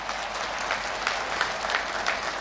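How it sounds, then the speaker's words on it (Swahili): A standing audience applauds at an official Nile Basin Day 2022 ceremony attended by the Vice President: a dense, sustained wash of many hands clapping, steady and fairly close for the whole stretch, with no voices above it. "tupige makofi mengi sana sana"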